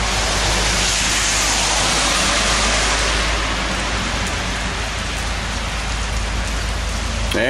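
Heavy rain pours steadily in a downpour over a residential street, a dense, loud hiss that stays constant throughout without any talk.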